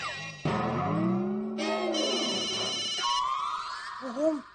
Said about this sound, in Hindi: फोन बज रहा है, फोन उठाइए।